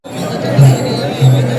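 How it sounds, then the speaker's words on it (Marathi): A huge crowd packs the Chandrabhaga riverbank during Ashadhi Ekadashi, filling the air with dense, close babble of many voices and a few low thuds. "प्रचंड गर्दीचा ओघ वाढत आहे चंद्रभागा येथील बघा मित्रांनो"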